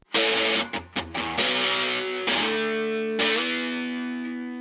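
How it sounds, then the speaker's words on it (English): An electric guitar played through a Rat distortion pedal: a few short, choppy distorted chord stabs, then two sustained gritty chords ringing out and slowly fading, with no talking. "And I've got a rat pedal."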